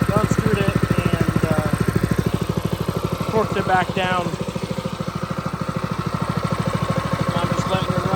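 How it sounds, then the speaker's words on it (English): A replacement small engine on a pressure washer runs close and loud with a fast, even pulsing chug, and someone talks over it partway through. "I'm just letting it run, braking the engine, and then I'll tighten that back down."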